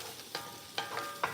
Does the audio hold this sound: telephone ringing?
no